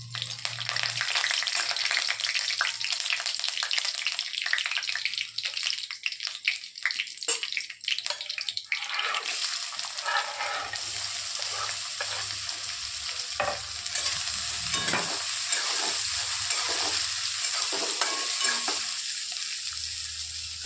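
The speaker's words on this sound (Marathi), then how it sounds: "तेल गरम झालं आहे थोडेसे जिरे टाकतो ते अर्धा चमच आणि कढीपत्ता" Cumin seeds and curry leaves fry in hot oil in a pan, a loud continuous crackling sizzle with frequent sharp pops and bursts of spatter that carries on for about twenty seconds, heard close with no talking.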